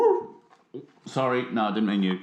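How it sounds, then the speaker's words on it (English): A dog named Murphy gives a short whining bark up close, followed by a person speaking. "that sounds like a dog"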